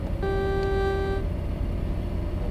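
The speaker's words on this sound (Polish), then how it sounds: "Trąbik działa." A single truck horn blast from a Peterbilt in American Truck Simulator, about one second of bright, steady toot over a low engine rumble, then only the idling drone remains.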